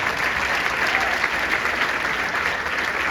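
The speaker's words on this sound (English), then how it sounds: "Can we applaud those folks?" An audience at an Iowa State Education Association event claps steadily and loudly, a dense, even wash of applause lasting the whole stretch.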